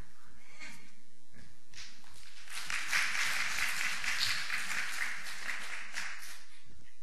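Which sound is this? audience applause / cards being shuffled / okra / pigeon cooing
audience applause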